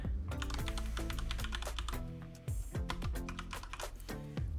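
Someone types a password on a computer keyboard, a close run of quick, uneven key clicks with brief pauses and a short lull in the middle, with no talking.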